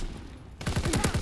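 BAR automatic rifle firing in Call of Duty WWII, a rapid burst of about eight loud, sharp shots following a quieter moment, close and with no talking.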